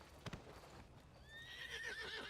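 A horse in a video game neighs, a rising whinny that swells from about halfway through and holds loud to the end, after a brief thump at the start and over a low ambient background.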